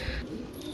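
A Jeera breed pigeon gives a short, soft, low coo up close, with no talking.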